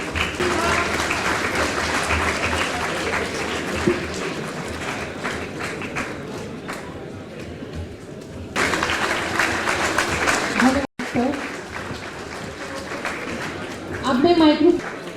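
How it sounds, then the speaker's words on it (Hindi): A large crowd claps to welcome comedians at the Antaragni '21 festival in Kanpur, dense applause filling the hall, briefly cutting out midway and returning, with speech heard over the clapping. "तालियों से एक बार स्वागत करें"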